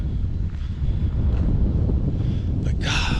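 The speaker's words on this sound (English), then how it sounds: "it is really windy up here" Strong wind buffets the microphone in a constant low roar, with a brief brighter gust of hiss near the end.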